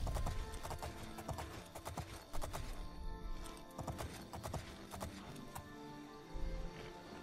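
Steady clip-clop of horse hooves trotting at an even rhythm, with a brief whinny, over a faint background from the video game The Elder Scrolls IV: Oblivion.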